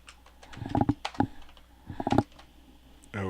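Several quick bursts of keystrokes on a computer keyboard as a password is typed, close and fairly quiet, with short pauses between clusters of clicks.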